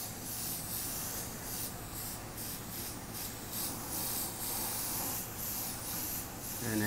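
An airbrush sprays paint onto Air Force 1 sneakers in a soft, continuous close hiss that pulses faintly in short bursts, quiet and alone.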